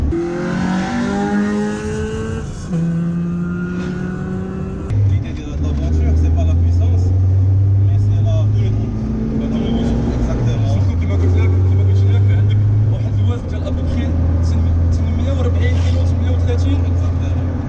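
A Peugeot 205 GTI engine roars under hard acceleration, rising in pitch through the gears with loud, continuous revving from inside the car while people talk.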